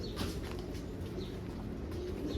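Soft, low cooing of pigeons amid a busy background hum, with faint chirps and rustles nearby.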